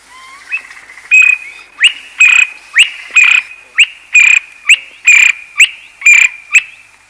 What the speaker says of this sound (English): the honey guide. Here's the sound.